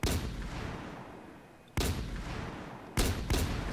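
Three loud gunfire blasts in an MTA DayZ game, each a sharp broadband boom with a long rumbling decay, spaced about a second and a quarter apart with no voices.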